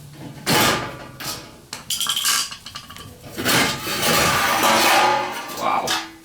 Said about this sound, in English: You see, he's been whacking it right there with a hammer.